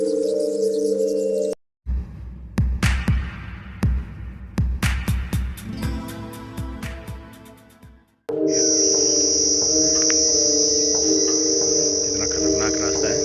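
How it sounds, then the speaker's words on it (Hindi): Insects, identified as crickets, buzz and chirp loudly at midday along a path near an old palace ruin, with sustained high-pitched tonal droning, a stretch of rapid pulsing chirps in the middle, and two abrupt breaks in the sound. "यहाँ पर देखो अभी कैसी आवाज़ें आ रही हैं झींगुर की।"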